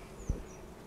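Honey bees buzz softly around a hive being lifted onto a new stand in the tropics, a faint steady hum broken by one brief low knock near the start.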